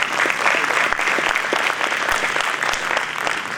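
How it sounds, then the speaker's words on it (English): An audience at a school winter band concert applauds the band's saxophone players, a full, sustained wash of clapping from a sizable crowd with scattered sharper claps standing out. "so round of applause for them."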